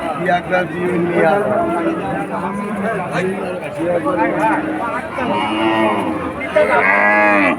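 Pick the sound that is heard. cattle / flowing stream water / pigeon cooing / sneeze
cattle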